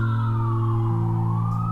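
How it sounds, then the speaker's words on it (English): Sirens wail steadily in the distance with a drawn-out rising and falling tone over a constant low hum, and no voices. "the distant wail of sirens pierced the silence"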